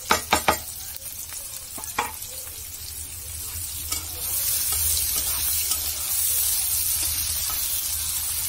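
Onions frying in hot oil in a home kitchen, a steady broadband sizzle that swells louder midway, with a few sharp clatters of a utensil near the start and no talking.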